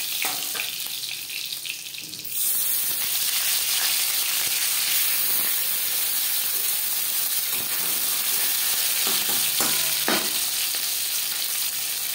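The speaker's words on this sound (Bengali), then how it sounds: "পরের মাছ একইভাবে ভেজে নেব।" Fish frying in oil in a wok for a bata fish curry gives a loud, dense sizzle that jumps louder after a couple of seconds and holds steady, with a few clinks near the end and no talking.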